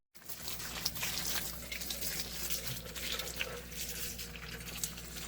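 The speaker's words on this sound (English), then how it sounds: "I'm going to measure, pour them inside the pot, and then water the plant." Steady stream of water poured over the soil of a potted June plum (Spondias dulcis) tree grown indoors, a continuous close splashing and trickling patter that runs evenly for about five seconds with no talking.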